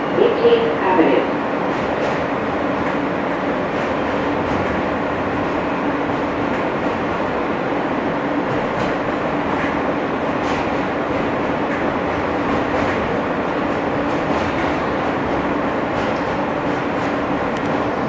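An R160 F subway train rides through Brooklyn on the West End local line, a continuous heavy rumble and rattle of wheels and car body heard from on board, steady throughout.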